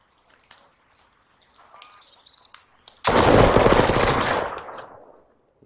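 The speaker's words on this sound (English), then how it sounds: "Now to shoot him" Gunfire in the survival game Mist Survival: a sudden loud sustained burst of rapid shots erupts after quieter ambience with bird-like chirps, then fades out over a couple of seconds.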